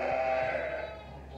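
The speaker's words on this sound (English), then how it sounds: "Some of these ewes are huge." One close ewe gives a single drawn-out bleat in a lambing pen, and faint barn noise lingers behind it as the call tails off.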